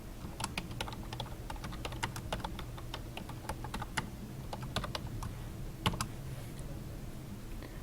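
Computer keyboard typing with a steady run of sharp, closely spaced key clicks, close and clear, a few louder strokes standing out, no voices.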